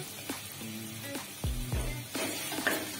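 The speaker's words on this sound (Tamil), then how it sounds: "இப்ப நம்ம நல்லா வதக்கி விட்டுருவோம்." Chicken rasam masala being sautéed in a pan, a soft, quiet sizzle with intermittent scraping and stirring knocks, several brief utensil taps against the pan over a few seconds, low hum underneath.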